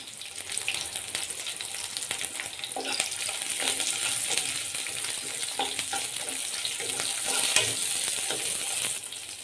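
Green chillies, ginger and garlic roast in a hot pan with a steady, bright sizzle and ongoing stirring scrapes, close and continuous with no voices.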